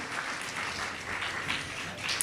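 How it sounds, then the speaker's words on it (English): A crowd at a civic event in Hawaiian Gardens applauds, a steady wash of many hands clapping, fairly soft and distant, continuing evenly without speech. "Another round of applause for those courageous young ladies."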